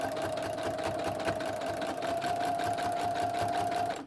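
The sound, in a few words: sewing machine stitching quilt binding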